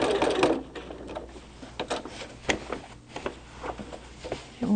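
Sewing machine quilting a Christmas tree quilt, stitching in short uneven bursts of rapid mechanical clatter with brief pauses between, close and moderately quiet.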